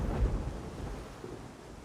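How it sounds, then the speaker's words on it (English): Rain and thunder in the video game Dawn of Man: a steady, dense wash of rainfall with low rumbling underneath, at an even level throughout this short stretch and with no voices. "this rain is getting kind of bad"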